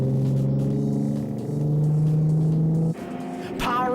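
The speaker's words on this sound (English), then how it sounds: "Powering up the hill to Sassel, and Anton Raths moves up alongside Neil Rei" Racing car engine climbing a hill during a circuit race, loud and close, holding a steady droning pitch that rises, then drops sharply at a gear change before pulling again, with no talk.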